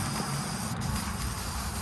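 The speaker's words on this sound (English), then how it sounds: "Spray it right after welding. Paint it hot." Spray paint hisses steadily onto freshly welded steel that is still hot, a continuous close, even rush of aerosol noise.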